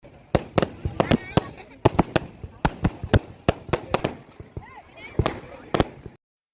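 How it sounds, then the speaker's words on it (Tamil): Fireworks after a school show pop and bang in a rapid irregular series of sharp loud reports, some close together, with voices of people talking in the background. "ஷோ முடிஞ்சதுக்கப்புறம் வந்து ஃபயர் ஒர்க்ஸ் வந்து நடந்துட்டு இருந்துச்சு"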